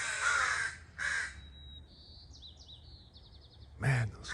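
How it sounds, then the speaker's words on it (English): Loud, harsh crow caws ring out near the start and again at the end, with thin whistling chirps from smaller birds in between. "Man, those crows are loud."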